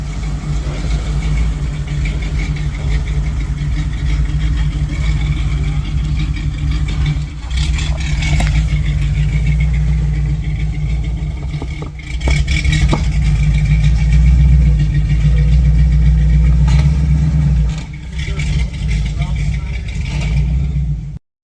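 A 1983 Toyota pickup crawling over an off-road rock obstacle, its engine a steady low rumble with brief revs and clunks, close and loud, with people talking over it.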